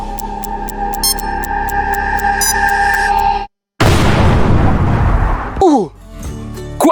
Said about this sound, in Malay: Kuat gila letupan tu.